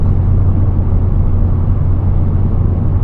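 A steady, loud low-pitched exhaust drone from a V6 car cruising at constant speed, with a smooth engine hum and no voices.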